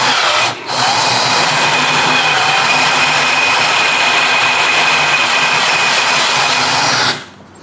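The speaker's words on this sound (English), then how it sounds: "So when you drill in cast iron, be very careful." A power drill bores into cast iron at slow speed with a loud, close, steady whine and grinding hum, broken by one brief dip near the start, and runs for about seven seconds before stopping.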